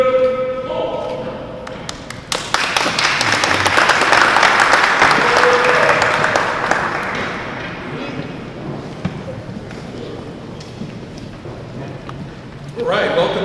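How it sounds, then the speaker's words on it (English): An indoor audience at a chamber of commerce event breaks into loud applause for the color guards, a burst of clapping that swells and then tapers off, with a voice speaking over it. "Let's give another round of applause for the color guards."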